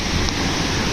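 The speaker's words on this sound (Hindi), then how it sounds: "और ये सामने एक और वाटरफॉल, ऊपर बर्फ़ है, वहाँ से आ रहा है।" A snowmelt-fed mountain waterfall and river on the Machail Mata trek rush in a dense, steady roar of broadband water noise, loud and close, with no voices over it.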